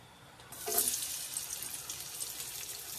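Oil hisses in a new pan as aromatics hit it for sautéing. A loud, bright sizzle surges in after a brief quiet moment and then holds as a steady, dense crackle. It sounds close, with no voices.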